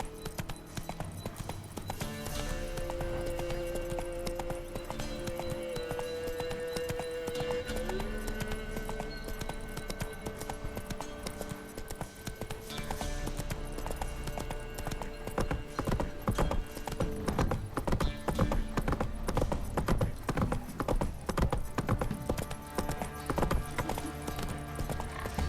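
Rhythmic hoofbeats from Roach, a horse in The Witcher 3 video game, clop steadily through the whole stretch alongside sustained musical tones and ambient game sound, with a faint neigh now and then.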